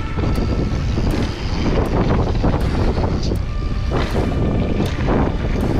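Strong gusty wind buffets the microphone at a mountain bike park in Mook, a continuous loud rushing roar with no one speaking.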